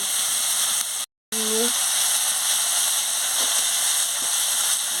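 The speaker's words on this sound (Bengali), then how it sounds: "আলুটাকে ভালো করে একটু ভেজে নিচ্ছি হালকা" Potatoes frying in a pan with turmeric and chili powder for a bitter gourd and potato chorchori, giving a steady, close hiss and sizzle that runs throughout with one brief dropout.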